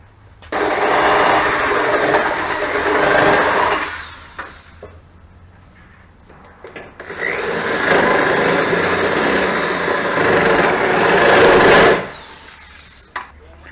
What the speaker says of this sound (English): I just drilled two little holes